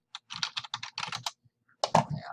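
Rapid typing on a computer keyboard, close and clear, in two bursts of quick uneven key clicks separated by a short pause, with no voices.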